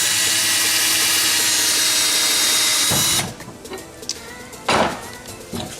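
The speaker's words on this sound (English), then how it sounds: "I'm gonna drill down a little further to make a marker on the metal itself" A loud, steady power drill grinds continuously into metal for about three seconds, then cuts off, followed by quieter clanks and handling noises.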